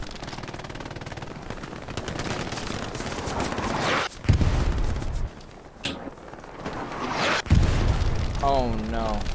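Gunfire and booming explosions fill a trench battle in a war video game, with dense bursts of shooting, sharp blasts and brief lulls, while a player talks over the din.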